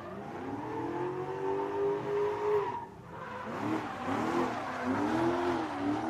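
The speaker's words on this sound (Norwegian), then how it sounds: "Hører da at han kjører med en V8 i bilen sin." A V8-engined drift car at a Norgescup drifting round at Gardermoen Raceway revs hard with shifting engine pitch and screeching tyres, loud and continuous through the whole stretch, with a brief dip midway.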